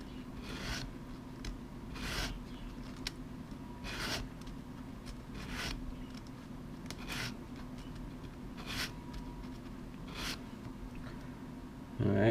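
Steady gritty hand sanding of the chrome ring on a wheel, faint and close, with repeated rubbing strokes and soft scraping bursts over a low background hum.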